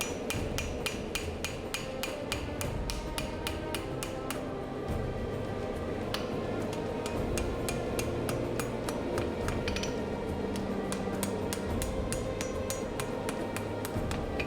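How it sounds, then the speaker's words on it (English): A power hammer with a jig forges a steel knife blade from a broken spear, beveling the edge with a wolf's tooth pattern: rapid, steady metallic pounding, loud and continuous, with no talk. "The jig on the power hammer helps to bevel the edge and also elongates the wolf's tooth pattern."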